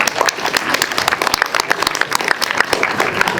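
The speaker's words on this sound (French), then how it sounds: "Ah, on peut l'applaudir très fort." An audience at a horror-themed show in Boulogne claps steadily and densely for a contestant. The applause carries continuously at even loudness for several seconds, with no talk over it.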